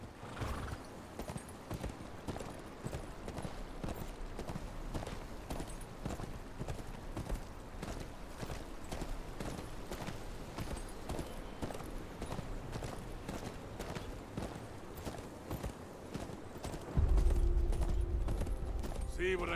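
Steady horse hooves clip-clop throughout on the King's Road toward Winterfell in a Game of Thrones video game, with occasional whinnies, voices talking over the trotting, and a louder low rumble near the end.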